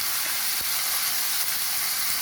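Chopped tomatoes sizzle loudly and steadily in a hot pan over a medium flame while salt is added, a dense continuous frying hiss with faint stirring ticks.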